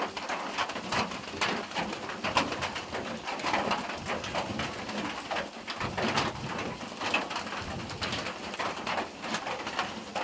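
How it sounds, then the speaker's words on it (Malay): Steady early-morning rain pattering and dripping nearby, with pigeons cooing in the background throughout. "pagi-pagi sudah hujan"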